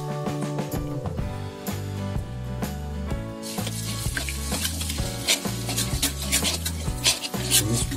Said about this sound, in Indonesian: Tumis bumbu yang kita olah tadi.